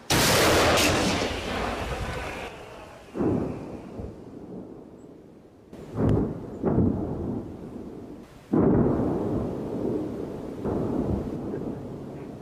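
Heavy artillery fire booming several times, deep blasts with long rumbling echoes rolling out between shots, loud and fairly close.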